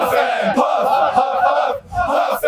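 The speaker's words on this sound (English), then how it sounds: "The crowd has been chanting as Bill Huff, number 52, hobbles along." A rain-soaked roadside crowd chants steadily in loud, rhythmic waves, with a brief dip near the end before the voices surge back.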